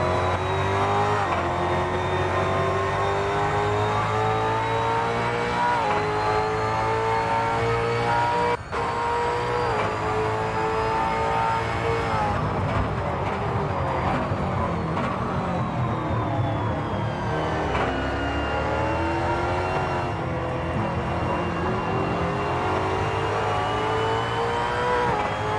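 A V8 Supercar engine heard onboard during a fast lap in a sim racing game, droning steadily at high revs with gear shifts and rising and falling pitch throughout, loud and continuous with no talk.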